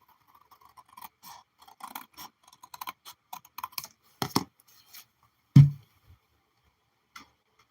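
Small snips and light paper rustles as scissors trim paper for a junk journal, a quick run of soft close clicks ending in one louder thump.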